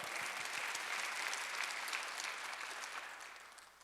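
Congregation clapping during a Sunday church service, a sustained burst of applause from many hands that slowly fades toward the end.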